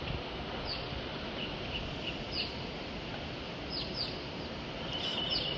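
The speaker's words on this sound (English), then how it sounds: "listen to the sounds of the waves and the birds" Birds chirp and tweet in scattered short calls over a steady, broad wash of surf-like noise that runs throughout.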